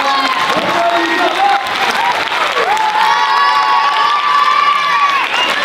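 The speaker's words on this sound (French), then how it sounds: "Je vous demande de les applaudir fortement," A festival audience at a film screening in Bressuire claps and cheers for the film's two protagonists, loud and sustained throughout, with shouts and whoops rising above the dense applause.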